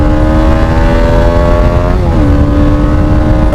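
A TVS Apache RR 310 single-cylinder motorcycle engine holds high RPM, a loud, steady droning whine close by whose pitch dips slightly partway through and then settles.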